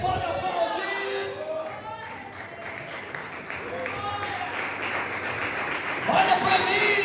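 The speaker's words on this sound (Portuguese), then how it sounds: "Você pode aplaudir." A church congregation applauds during an Easter sermon, broadband clapping and crowd noise running steadily throughout under overlapping voices, swelling a little louder toward the end.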